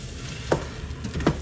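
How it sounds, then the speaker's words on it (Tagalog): Ingredients for laing sauté in a hot pan, a soft continuous sizzle broken by two brief spatula scrapes, close and fairly quiet, no voices. "At ito igigisa muna para lumasa ng maayos yung ginisa natin."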